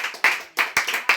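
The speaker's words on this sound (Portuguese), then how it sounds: "Dê um lindo aplauso ao Senhor." A church congregation claps in bursts of applause during a worship service, the claps loud and close, arriving in a few quick uneven waves.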